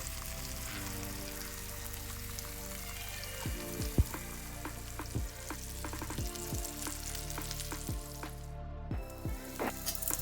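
Beef short ribs frying in a pan produce a steady, dense sizzle with scattered crackles and pops throughout, close-up and continuous with no talking.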